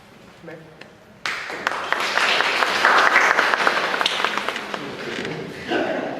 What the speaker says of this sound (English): You're applauding usually what she said.